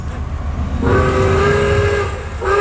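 A Polar Express excursion train at Chicago Union Station sounds a loud, close horn, a sustained multi-tone blast followed by a second shorter one over low rumbling rail noise.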